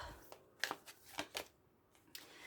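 Tarot deck being cut by hand, a few quick soft card slaps and riffles spaced across a couple of seconds, close and quiet, no talking.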